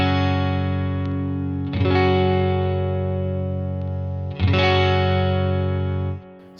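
An electric guitar runs through a UAFX Enigmatic '82 overdrive pedal set to the Skyline tone stack. Two loud, sustained overdriven chords ring out in turn, each decaying slowly, with no voices.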